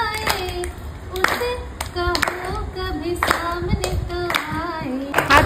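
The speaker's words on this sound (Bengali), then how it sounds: "হাততালি" Hands clap in sharp, scattered bursts at a family get-together, mixed in with singing voices and lively chatter nearby.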